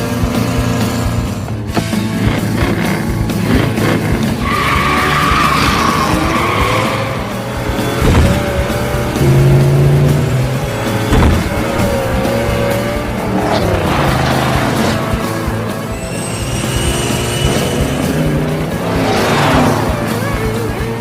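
Cars race on a track with a 1955 Chevrolet Bel Air among them, engines roaring and revving continuously while tires squeal and skid, loud and close, with voices and film sound mixed in.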